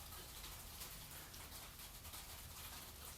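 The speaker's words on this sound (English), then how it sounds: "I'm assuming that you can hear that banging on the roof of the garage right now." Steady freezing rain drums on a garage roof, a dense continuous patter with no voices.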